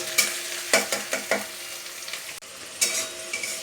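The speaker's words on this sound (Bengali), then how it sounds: "এখন মশলাটা একটু ভেজে নেব" Onion, ginger and garlic spice paste fries in hot oil for a pomfret fish curry, with a soft sizzle and several quick scraping stirs against the pan, close and fairly quiet.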